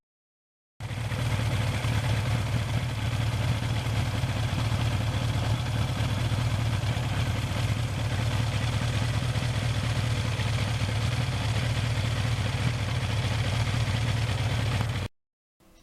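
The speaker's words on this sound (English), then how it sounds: "this exhaust has the nicest rumble of them all" A 1982 Suzuki GS1100E motorcycle idles steadily through its exhaust, a deep continuous rumble that stays even and loud with no revving and cuts off abruptly at the end.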